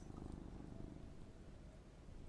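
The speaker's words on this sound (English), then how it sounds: "You can pet the kitty and it purrs." A cat in a cozy sorting video game purrs steadily while being petted, a soft continuous rumbling purr, faint and close, with no talking.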